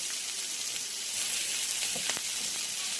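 Mushrooms and vegetables sizzle while frying in a pan, a steady close hiss with scattered crackles and pops throughout and no voice over it.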